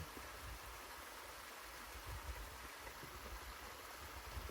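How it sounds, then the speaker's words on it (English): A waterfall pours in a constant, even roar of falling water, faint and steady throughout with no voices. "I'm sitting here next to a waterfall, which is absolutely beautiful"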